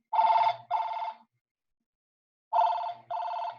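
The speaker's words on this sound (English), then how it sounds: "And we decided it is trying to communicate a cell phone or a telephone." A telephone bell rings in two double bursts, each pair of rings clear and close, with silence between the pairs.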